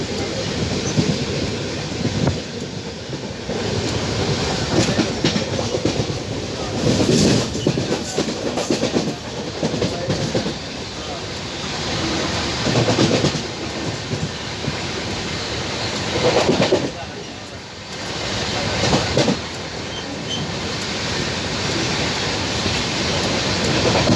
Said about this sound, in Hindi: इस समय हमारी ट्रेन सहारनपुर जंक्शन पहुंचने वाली है।